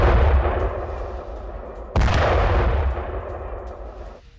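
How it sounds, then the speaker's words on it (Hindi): Heavy gunfire from a Browning M2 machine gun in a live-fire test, two loud booming reports with long echoing decay, the second sharper and closer, no voices. "यूक्रेनी ब्रिगेड ने ब्राउनिंग M2 का टेस्ट किया है। रूस के आर्मर्ड ग्रुप पर किया है लाइव टेस्ट।"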